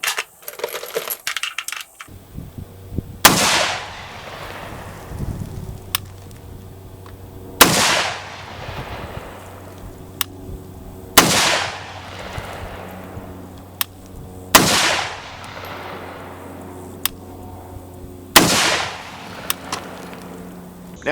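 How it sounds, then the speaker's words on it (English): Chinese Arsenal 66 AK-47 rifle firing Wolf Performance 123-grain Russian ammunition from steel magazines at an outdoor range: five loud, sharp single shots spaced about four seconds apart, each followed by a ringing decay. "I'm going to be shooting some Wool Performance 123 grain ammunition."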